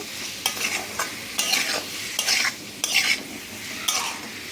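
A spatula scrapes and stirs boiled potato and pointed gourd through a sizzling pan, in a series of distinct, close strokes every half second or so over a low frying hiss, with no voices.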